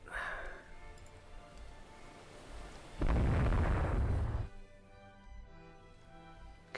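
In the naval game Rule The Waves 2, a main gun shell strikes an enemy ship, one loud booming impact lasting about a second and a half over quiet background noise.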